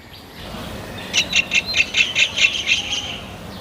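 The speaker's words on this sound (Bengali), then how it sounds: "পাখিটিকে দেখুন আমি ভিডিও করছি ও একদম আমার সামনে এসেই বসলো" A bird chirps in a quick series of about ten bright, evenly spaced calls, fairly close and loud over a low background hum, at a Jagannath temple in Dumdum, Kolkata.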